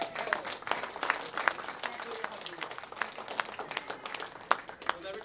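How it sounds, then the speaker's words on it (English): Audience at a magic show clapping after a trick, a steady patter of applause from a modest crowd at moderate distance, fairly quiet, with talking over it. "Give her a round of applause."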